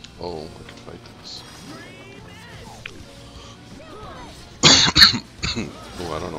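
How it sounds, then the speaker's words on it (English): A person coughs in a short close burst of two or three harsh coughs, loud against game music and sound effects from Xenoblade Chronicles DE, with some talking nearby. "I don't know why I'm coughing."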